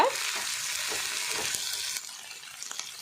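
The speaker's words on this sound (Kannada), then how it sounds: "ಒಂಜಿ ಚಮಚ ಶುಂಠಿ ಬೆಳ್ಳುಳ್ಳಿ ಪೇಸ್ಟ್ ಪಾಡ್ಗ ಒಂದೆಲ್ಲ ಫ್ರೈ ಮಲ್ತೆಗೆ" Sliced onion frying with ginger garlic paste in a pan gives a steady bright sizzle under soft stirring scrapes, loud at first and easing slightly toward the end, with no voices.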